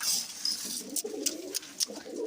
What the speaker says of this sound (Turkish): Güvercin yemliğin içine girmiş.